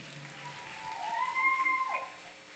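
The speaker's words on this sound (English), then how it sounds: "Big round of applause, please." Wedding guests applaud in a steady wash of clapping that swells toward the middle, with a thin, sustained whistle-like tone gliding over the top before it fades.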